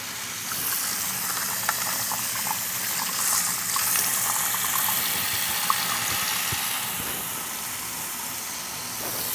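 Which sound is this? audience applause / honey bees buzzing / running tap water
running tap water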